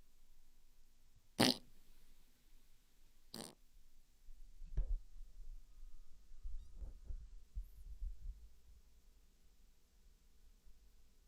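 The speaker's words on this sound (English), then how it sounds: "I'm going to fart." Short, low, blurting farts from a livestreamer sound in a few separate bursts over a quiet background hiss, with one stronger puff early on and fainter rumbling ones after.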